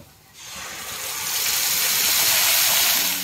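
A steady loud hiss and sizzle rises after a quiet start as stuffed bitter gourds fry in hot oil in a pan, continuous with no talking.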